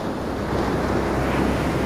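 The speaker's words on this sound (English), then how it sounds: "The waves are gentle, soothing, a melody that carries them deeper into relaxation." Gentle ocean waves washing onto a beach, a steady broadband wash with soft surging and some wind rumble, continuous and fairly close with no voices.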